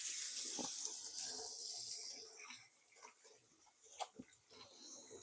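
Running tap water hisses steadily as hands are washed at a kitchen sink while cooking Thanksgiving dinner, with faint knocks and splashes toward the end.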